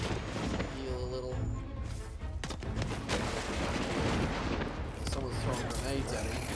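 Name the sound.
grenade explosions in the video game Dauntless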